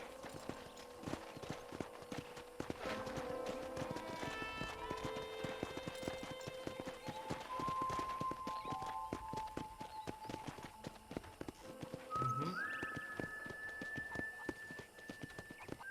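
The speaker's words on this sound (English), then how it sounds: "let's see if you can still ride a horse" Horse hooves clip-clop steadily in Red Dead Redemption as a rider tours a ranch, a continuous walking rhythm under game music and ambient tones, with a brief whinny-like rise near the end.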